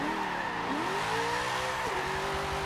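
Holden HQ Sandman ute drifting in Forza 7, loud continuous tire squeal over a droning engine whose pitch bends and rises as the car slides, close and steady throughout.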